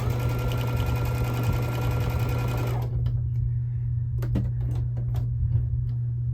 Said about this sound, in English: I'm going to stop sewing a 1/4 inch before I reach the corner